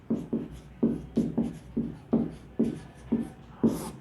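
Writing on a board, about ten crisp, evenly spaced tapping strokes of marker or chalk, close and distinct, with no talking.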